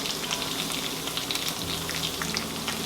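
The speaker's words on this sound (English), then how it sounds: "So while that last steak is browning, these can begin to soften a little bit." Cubed steak browns in a tablespoon or so of oil in a skillet, a steady close crackling sizzle running through the whole stretch with a low hum underneath.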